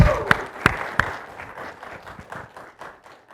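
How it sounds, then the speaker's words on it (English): An audience at a corporate speaking showcase in Mumbai bursts into applause, with a few sharp loud claps at first and then a denser, softer patter of clapping that fades over a few seconds. "Let's give a big round of applause."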